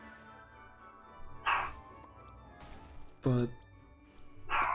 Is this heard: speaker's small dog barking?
yes